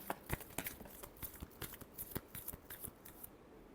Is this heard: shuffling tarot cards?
yes